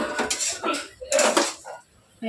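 Taro leaves (kochu shak) being stirred in a pan: irregular bursts of metallic utensil clatter and scraping against the pan, loud and close, with short quiet gaps between strokes.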